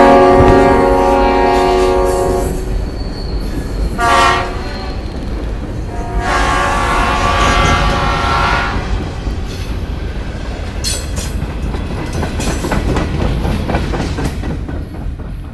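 A garbage train rolls past on a railway near the Agawam River, loud and close, with steady rumbling wheel clatter, rhythmic clicks and a few long horn-like tones rising and fading across the pass.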